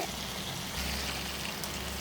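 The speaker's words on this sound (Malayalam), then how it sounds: "ജാറിൽ കുറച്ച് വെള്ളം ഒഴിച്ച് മിക്സ് ചെയ്ത് നമുക്ക് ബീഫിലേക്ക് ചേർക്കാം." Water is poured into a mixer jar while making Kerala-style beef varattiyathu: a soft, continuous trickle and splash, close but quiet, with no talking.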